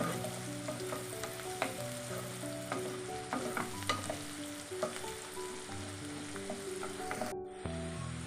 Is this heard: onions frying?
yes